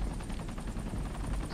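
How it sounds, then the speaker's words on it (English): A friendly helicopter in the shooter game Ghost Recon Future Soldier makes a steady, loud low rotor rumble with dense chopping texture, with gunfire-like bursts mixed in throughout. "Oh, that's our helicopter. Friendly."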